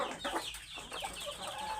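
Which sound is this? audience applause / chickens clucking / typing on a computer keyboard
chickens clucking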